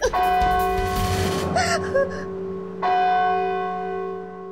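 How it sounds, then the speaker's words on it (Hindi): A bell strikes loudly and rings out, followed by a second strike whose tone hangs and slowly fades, with a brief gasp-like sound between them and no speech. "घंटी सुनी तुमने?"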